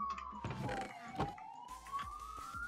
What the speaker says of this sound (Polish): A i karetka za oknem.